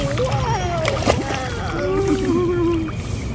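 Water splashes and sloshes in a swimming pool, lively and close, with children and adults chattering throughout.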